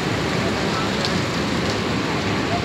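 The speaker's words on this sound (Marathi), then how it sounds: "खूप पाऊस आहे." Heavy monsoon rain pours down steadily and loudly in Vasai during Mumbai flooding, a dense continuous hiss with no breaks.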